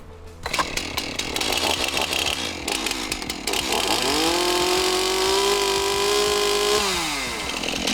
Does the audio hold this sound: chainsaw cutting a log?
yes